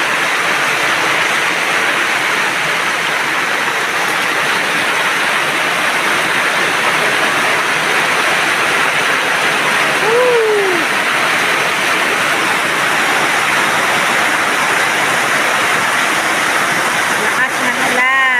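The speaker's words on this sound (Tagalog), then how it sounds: "Lakas ng ulan." Heavy rain pours down during a power outage, a loud, unbroken roar mixed with rushing runoff water, with a brief voice rising faintly over the downpour.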